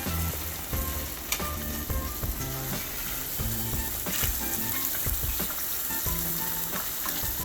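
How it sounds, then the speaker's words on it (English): Steady loud sizzling and crackling of ribs deep frying in hot oil, with occasional clinks of utensils, no voices. "Wait until the oil is hot and start deep frying."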